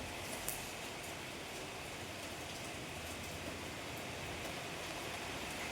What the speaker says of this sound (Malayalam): ഇന്ന് വീണ്ടും നല്ല മഴ തുടങ്ങി. ഇതാണ് ഇന്നത്തെ കാലാവസ്ഥ